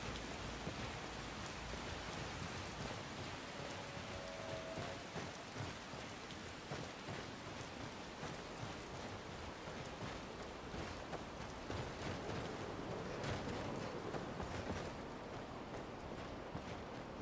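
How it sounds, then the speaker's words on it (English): Steady rain falls in the video game Skyrim, a constant soft hiss of drops on surfaces with faint low rumbles beneath, quiet and unbroken throughout. "Why the fuck is it raining, man?"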